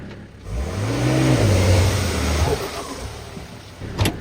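An older $1000 car with a blown clutch and lost drive revs its engine as it pulls away, the pitch sweeping up and down loud and close for several seconds before a short sharp knock near the end.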